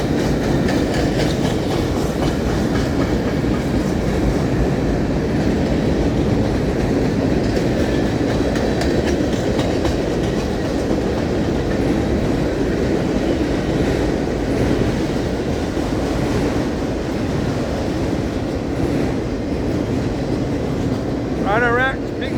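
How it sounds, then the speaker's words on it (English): A long manifest freight train with auto rack cars rolls steadily past up close, a continuous loud rumble with rail clatter and a brief wheel squeal near the end, with people occasionally talking. "Auto Racks, big long manifest train."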